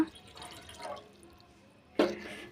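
Cumin water pours into a glass with soft dripping and trickling, ending in a sudden, louder splash of liquid near the end.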